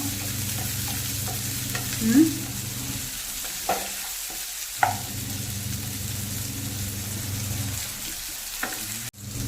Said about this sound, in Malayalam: അതിലേക്ക് പച്ചമുളക് ഇട്ട് കൊടുക്കുന്നു